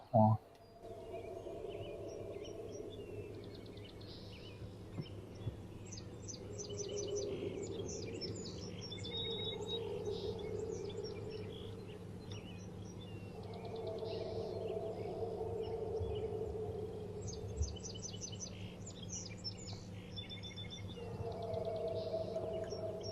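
Birdsong chirps and trills repeatedly in a played recording, with a low steady hum and murky background tones running underneath throughout.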